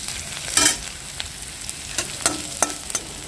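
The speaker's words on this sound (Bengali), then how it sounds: "আমি পেঁয়াজ লঙ্কা রসুন মানে এটা ভাজা ভাজা করছি" Onion, chili and garlic frying in oil in a pan, a steady sizzle broken by several sharp scraping stirs of the spatula, close and fairly loud, with no talking.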